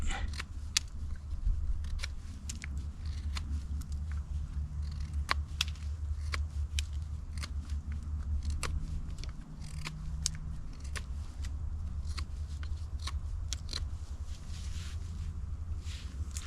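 A knife shaves a point onto a wooden stake in soft push cuts outdoors. Short, crisp scraping strokes repeat at an irregular pace against a low, steady background rumble.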